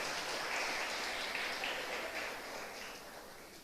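A church congregation applauds in steady, diffuse clapping with a rain-like texture, fairly faint and continuous, tapering slightly toward the end.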